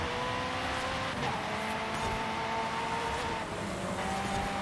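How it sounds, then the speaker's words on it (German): A British race car in Forza Horizon 5 holds a steady, loud engine drone with shifting pitch as it accelerates, plus a faint tyre squeal, continuous and up close without talk. "Boah, was für ein Sound."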